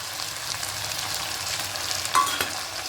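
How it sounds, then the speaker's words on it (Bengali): Vegetables tossed with ginger-garlic paste and ground chilli, cumin, coriander and turmeric in a pan for a fish curry with taro stems and potato, giving a steady close sizzle with soft stirring scrapes and one sharper clink near the end. "সমস্ত মশলা দিয়ে খুব ভালো করে সবজিগুলোকে দু তিন মিনিট ধরে একটু ভালো করে কষিয়ে নেব"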